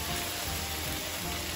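Bacon-wrapped meatloaf bombs sizzle loudly in a hot pan with soy sauce just added, a steady close crackling and hissing fry that runs unbroken, with no voices.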